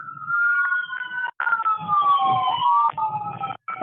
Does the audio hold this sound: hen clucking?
no